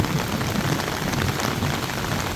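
Heavy downpour falls on a house in Kerala, a loud and even wash of rain with no pause across the short stretch and no distinct thunderclap standing out.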